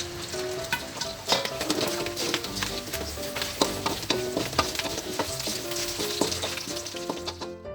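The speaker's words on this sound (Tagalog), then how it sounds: "hayaan lang natin na medyo maging crunchy siya ng bahagya bago natin igisa sa kanya yung ating bawang at sibuyas." Meat for pancit bihon sizzles loudly as it fries until crunchy in a pan, a dense continuous crackle punctuated by frequent taps and clinks of a utensil, close up with no voices.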